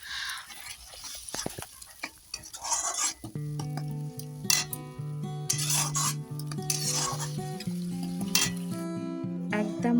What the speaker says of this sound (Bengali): শুধু দইটা দিয়ে ভালো করে একটু নেড়ে নিচ্ছি